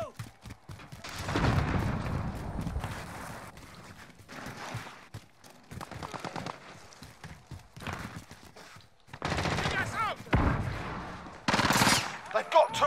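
Call of Duty gunfire crackles in short bursts and scattered single shots, loud and close, with pauses between volleys and footsteps and movement between them.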